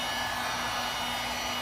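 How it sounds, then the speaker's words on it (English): A heat gun blowing hot air onto EVA foam, a steady, even broadband whoosh with a faint constant hum, close and uninterrupted over a short stretch. "I'm just heating the foam with the heat gun."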